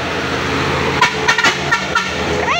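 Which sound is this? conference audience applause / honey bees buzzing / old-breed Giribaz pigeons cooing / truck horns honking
truck horns honking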